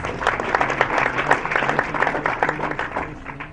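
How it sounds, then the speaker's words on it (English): A crowd at a Kenya Society for the Blind event claps for Daddy Owen, a moderately loud, uneven patter of hands over a low hum, with some voices underneath, tapering slightly at the end. "So please give Daddy Owen a big round of applause."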